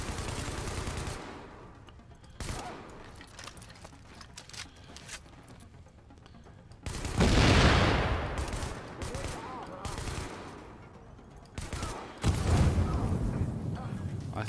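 Grenade explosion and bursts of gunfire in the video game Tom Clancy's The Division, set at a Hudson Yards refugee camp; loud booming blasts near 7 and 12 seconds stand out among scattered shots and steady background noise.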